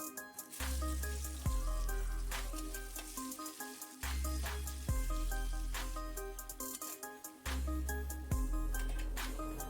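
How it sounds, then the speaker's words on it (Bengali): Steady, loud sizzling of chopped onions frying in oil until golden, broken by periodic scraping stirs and crackling pops, close up with no talking. "কুচিয়ে রাখা পেঁয়াজগুলিকে দিয়ে সোনালি করে"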